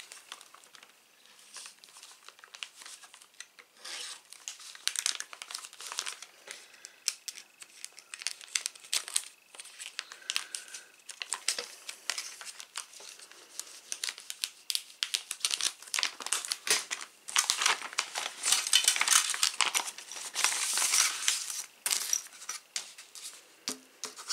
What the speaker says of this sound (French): Je vais les déballer en même temps que vous.